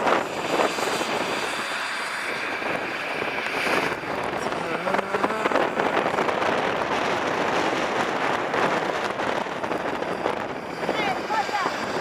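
A fixed-wing airplane engine roars steadily and loudly throughout at an air force base, a dense broadband drone with wind buffeting and faint voices underneath.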